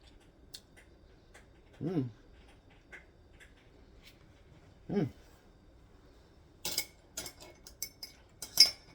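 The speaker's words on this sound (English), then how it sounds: "Grab a spoonful here." A spoon scrapes and clinks against a dish while scooping KFC-style coleslaw. Two soft, low scrapes come first, then a cluster of sharp, bright clicks near the end, all quiet and close with no talking.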